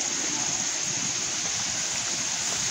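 Clear, cold water in a natural stream flows in a steady, dense rush that fills the scene evenly, close by and continuous, with no voices over it.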